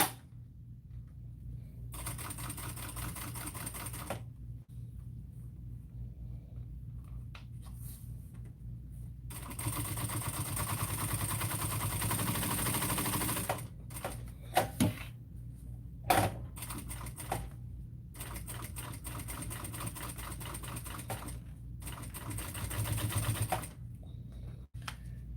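A sewing machine bastes pieces of the Adam Bag, running in steady close whirring bursts of several seconds, broken by brief pauses and small handling clicks, fairly quiet overall.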